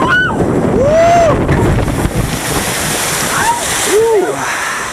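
Water rushes and splashes around a log flume ride boat at Silver Dollar City in Branson, with loud broadband wash and wind buffeting, and riders' voices whooping over it.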